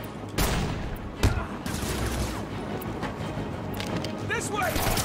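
Enemy guns fire in Batman: Arkham City, a sustained crackle of rapid shots with a few louder bangs, dense and continuous alongside game sounds and a voice talking.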